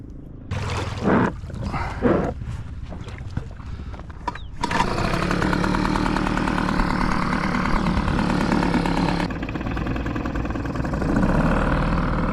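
A small outboard engine on a lightweight 3.6 Parson boat roars into a loud, steady, high-pitched drone at maximum speed after a few seconds of quieter knocks and handling sounds.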